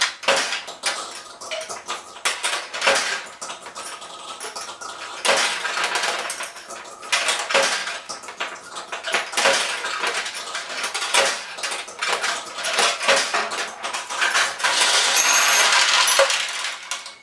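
Many small metal balls rattle and clatter continuously in a Nishijin pachinko machine, a busy jingling cascade with sharper clacks throughout and a denser rush near the end.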